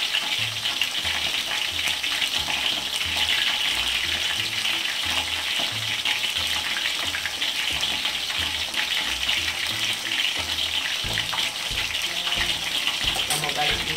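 Chicken pieces seasoned with paprika and black pepper fry in a pan over low heat, giving a steady, dense sizzle with crackling and occasional stirring, loud and continuous throughout with no talking.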